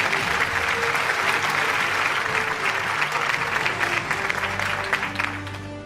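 Dense audience clapping at an annual news network award show, a loud, steady wash of many hands applauding continuously for several seconds before tapering slightly at the end.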